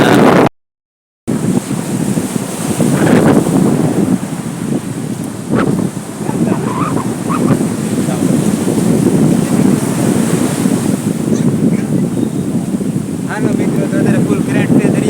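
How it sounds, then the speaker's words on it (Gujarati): Strong wind at the sea shore as the weather turns rough, with a loud, steady roar of wind buffeting the microphone and surf behind it, briefly cut out near the start. "વિડીયોમાં તમે જુઓ તો આ પવન પણ એટલો લાગે છે"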